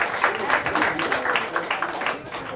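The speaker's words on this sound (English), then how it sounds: "Every round of applause for beautiful Amanda" An audience applauds as a woman named Amanda is invited onstage during a magic show, producing dense, sustained clapping that stays close and steady throughout.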